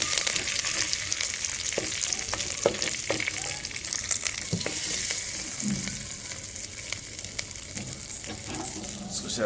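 Curry leaves, cumin and mustard seeds sizzle and crackle in hot oil in a pan for tempering, a steady close frying hiss with scattered pops and a voice occasionally speaking.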